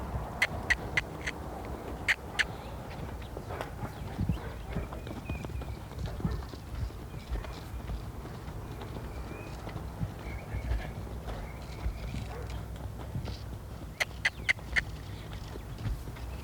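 Hooves of a young, never-ridden horse clip-clop while it is ridden during collection and lead-change training, a steady rhythmic beat with sharp clusters of clatter over a low background hum; no voices are heard.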